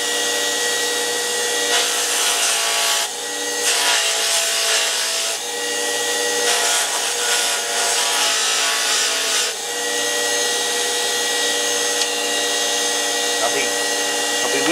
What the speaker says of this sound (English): we're taking this outer layer off, thinning the hide down a little bit